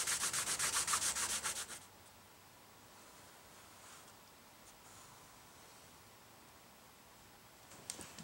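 A cloth soaked with acetone rubs sticky residue off a part during a Les Paul Junior-style guitar build. A loud, fast scrubbing rasp lasts under two seconds, then only quiet room noise follows, with a faint scrape near the end.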